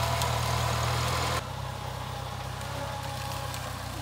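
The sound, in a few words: sugarcane grinder engine running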